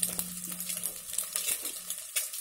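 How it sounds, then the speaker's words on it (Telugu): Eggs frying in a pan give a soft crackling sizzle under light clinks and scrapes of a utensil against the pan, close and fairly quiet. "ఎగ్స్ ఇలాగ అన్నీ వేయించుకోవాలి."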